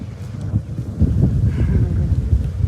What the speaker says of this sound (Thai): โอ้ลมแห้งครับ